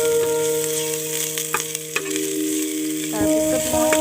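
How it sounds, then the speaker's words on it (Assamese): Ginger-garlic paste being stirred in a frying pan for khichdi: a steady sizzle with a few spatula scrapes against the pan, close and fairly loud, no talking. "তাৰপিছত এইখিনি ভালকৈ মিক্স হ'বলৈ ইয়াত লৰাই দিছোঁ।"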